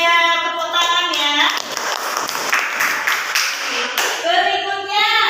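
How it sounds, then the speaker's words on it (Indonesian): Students in a junior secondary classroom clap together, a burst of quick, close hand claps in the middle stretch, with a voice speaking before and after. "Tepuk tangan ya."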